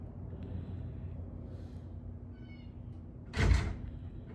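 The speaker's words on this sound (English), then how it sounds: "I left my building door because I'm waiting on somebody to get here. That's what you hear flopping around the back there." A building door left open flaps and bangs somewhere at the back, giving a single sharp knock near the end after a stretch of low steady rumble and faint clatter, with nobody speaking.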